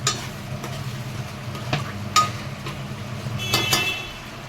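Egg masala gravy cooks down until dry in a pan, giving a steady low sizzle with scattered scraping stir strokes and a few sharper clinks against the pan.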